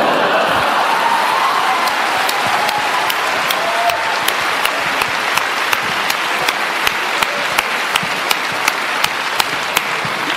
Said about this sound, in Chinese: 既然大家嘅掌声咁厉害